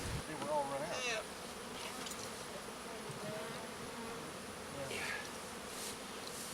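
Honeybees drone in a steady, dense buzz inside a commercial bee barn, individual insects whining past close by over a continuous hum, with brief faint voices in the background.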